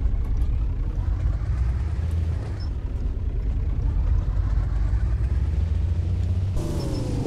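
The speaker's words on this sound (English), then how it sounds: "Oh, wow, that revved really loud." Deep, steady engine drone from a FSC Star 200 mod truck in Euro Truck Simulator 2, droning on evenly before the revs climb sharply near the end in a louder, rising whine.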